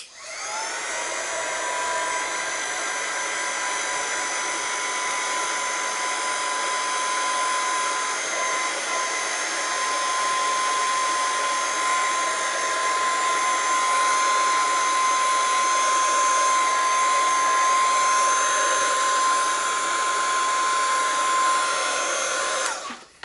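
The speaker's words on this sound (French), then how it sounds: "je vais mettre un petit coup de head gun dessus" A heat gun blows steadily on a mixed-media scrapbooking bookmark, a loud continuous whooshing hum with a whiny tonal edge that holds for about twenty seconds before cutting off.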